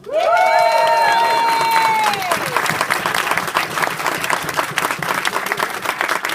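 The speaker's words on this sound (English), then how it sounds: "I do also want to give some applause for the store." Bookstore audience at a Brandon Sanderson book signing at Barnes & Noble breaks into loud, dense applause with some cheering, opening under a voice that speaks briefly, then sustaining as even clapping to the end.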